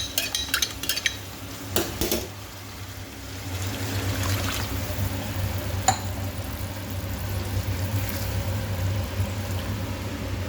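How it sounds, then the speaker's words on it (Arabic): Cornstarch dissolved in cold water is poured into a sweet and sour sauce in a pan, giving a soft, steady liquid trickle with a few metal clinks and stirring scrapes at the start, close by and without talk. "معلقتين النشا اللي انا دوبتهم في ميه بارده، هنزل بيهم"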